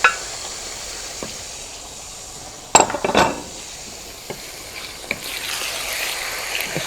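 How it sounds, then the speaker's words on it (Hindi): One kilogram of chicken mixed into frying onions in a pot, a faint background sizzle broken by a sharp clink and a few scraping, clattering stirs, close up with no talk. "ये चिकन 1 kg है चिकन, ये मैं इसमें मिला रही हूँ।"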